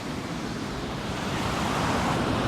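Storm surf surging onto a Black Sea beach in Odesa, a loud continuous roar of breaking waves with wind noise on the microphone.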